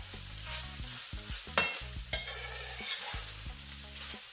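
Cabbage sautéing in a pan for curry vegetable egg rolls, a steady close sizzle with utensil stirring scrapes and a couple of sharp clacks, no talking.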